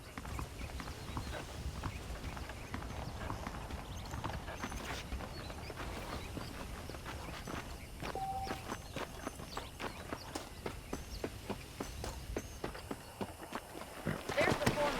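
Saddled horses clip-clop in a cowboy video game, a steady rhythmic walk of hooves running throughout at moderate distance beneath ongoing character dialogue.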